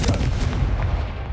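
Loud, booming Confringo spell blast in Hogwarts Legacy, a single heavy explosive rumble lasting about a second and fading out, no speech.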